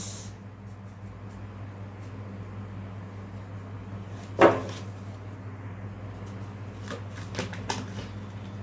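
Tarot cards handled and laid out on a surface: a sharp riffle burst midway, then a few soft flicks and taps near the end over a faint steady hum.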